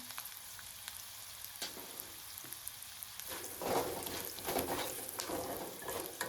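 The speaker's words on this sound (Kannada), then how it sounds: "ಎಲ್ಲ ಚೆನ್ನಾಗಿ ಎಣ್ಣೆಯಲ್ಲಿ ಬೇಯಕ್ಕೆ ಬಿಡಬೇಕು" Churumuri seasoning frying in oil, a soft steady sizzle with bursts of crackling and stirring scrapes, fairly quiet and without talk.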